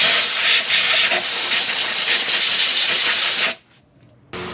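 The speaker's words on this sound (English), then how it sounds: "Blowing it down with some air." A continuous, loud blast of compressed air hisses over freshly serviced front brake parts on a 2012 Nissan Frontier, holding steady for several seconds before cutting off abruptly, then resuming briefly.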